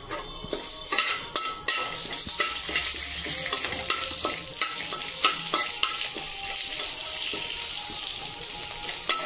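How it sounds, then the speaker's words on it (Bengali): Torn bay leaves frying in oil over a low flame while making mango pickle, a close steady sizzle with frequent sharp clicks and scrapes of stirring in the pan. "আর দেবো আমি 4টে তেজপাতা টুকরো করে নিয়েছি, দিয়ে দিলাম"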